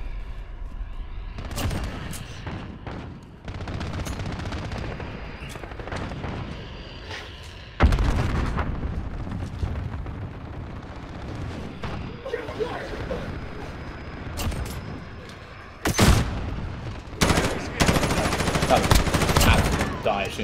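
Video game gunfire in a team deathmatch: bursts of rapid shots and booming blasts come in clusters with short gaps, loud and close, mixed with voices talking over the battle.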